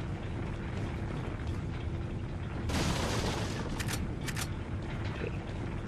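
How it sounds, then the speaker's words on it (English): A dynamite explosion in the Resident Evil 4 video game, heard as a sudden dull burst of noise within loud continuous game rumble, followed by a few sharp crackling bursts. "That can kill you, that explosion."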